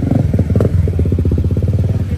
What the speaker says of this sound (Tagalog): ito yung ating motor